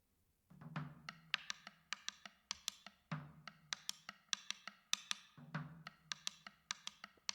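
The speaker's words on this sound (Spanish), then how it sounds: "tenemos este que se llama maderita, que suena así." Sharp wooden clicks from a maderita percussion block tap out a quick, repeating rhythm over a low drum pulse, crisp and close.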